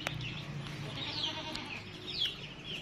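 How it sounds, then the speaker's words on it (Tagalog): Farm goats bleat a few times over a low rural background hum, the calls moderately close and rising out of steady ambient noise. "ito na nga yung ating mga iba pang alagang kambing"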